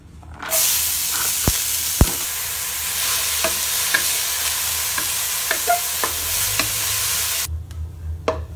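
Carrots hitting hot oil in a large pan and frying with a sudden loud sizzle that holds steady, punctuated by sharp utensil knocks and scrapes, then cuts off near the end; no speech.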